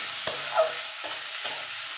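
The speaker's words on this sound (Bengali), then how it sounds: "এবার ভালো করে ভাজা ভাজা করে নেব" Potatoes and drumstick greens fry in a pan with a soft, constant sizzle, punctuated by three brief scraping strokes of a spatula stirring.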